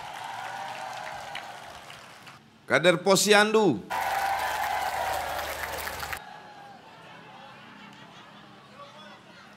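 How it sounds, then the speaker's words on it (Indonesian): Applause for Dasawisma cadres at a Probebaya community event in Sungai Pinang district, Samarinda, breaks out as a dense burst lasting about two seconds after a short loud passage, with speech before and a quieter voice continuing afterward. "Kita beri tepuk tangan untuk Dasawisma."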